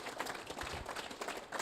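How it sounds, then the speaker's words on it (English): Scattered applause from a group of conference attendees at a developer summit, a steady dense patter of clapping with no single hand standing out, fairly close and continuous for the short span. "Give yourselves a round of applause."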